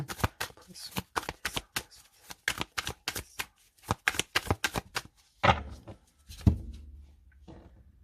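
A deck of tarot cards is shuffled up close in a brisk run of crisp riffling bursts, then cut and set down with a couple of heavier slaps and soft rustles, no voice over it.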